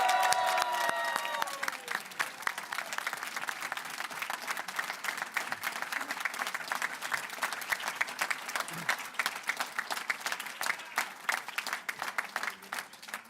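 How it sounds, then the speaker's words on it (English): A crowd at a Winnipeg 2022 municipal election night event breaks into sustained, dense applause with scattered cheers that holds steady throughout, after a brief voice at the very start. "Can we give them a round of applause?"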